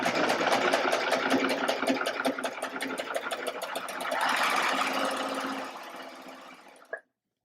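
A serger stitches a quarter-inch quilting seam, a fast steady mechanical whir with rapid needle rhythm running close and loud for about six seconds before slowing and stopping abruptly.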